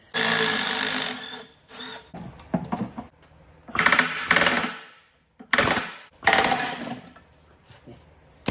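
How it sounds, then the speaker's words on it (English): Air hammer working on a Duramax turbocharger to separate it from its exhaust housing, heard as several loud rattling bursts of a second or two each, separated by short pauses, up close in a shop. "So I might take an air hammer to it."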